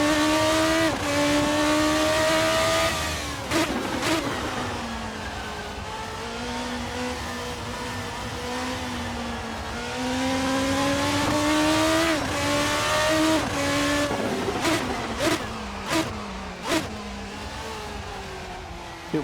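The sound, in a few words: Praga R1 V8 race car lapping Tsukuba circuit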